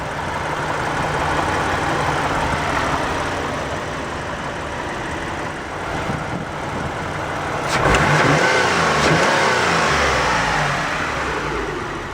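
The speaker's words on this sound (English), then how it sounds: "The 3000 GT comes with a 3-liter dual overhead cam 24-valve V6." A 1994 Mitsubishi 3000GT's 3-liter dual overhead cam 24-valve V6 runs steadily under an open hood, a loud, close, even drone with a slight rise in pitch partway through.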